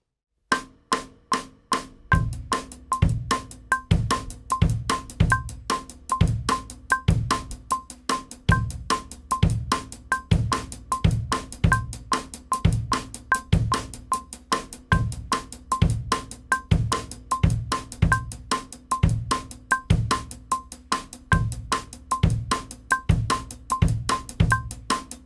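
Drum groove played as an 8th note backbeat, a steady, even pattern of crisp strikes with regular heavier hits, close and moderately loud, continuing without talk.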